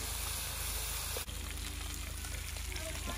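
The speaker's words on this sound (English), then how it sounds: "Look at that sizzling up." Food sizzles and crackles steadily in a hot pan at a primitive campsite in Cades Cove, Smoky Mountains, close by, a continuous dense frying hiss with small pops.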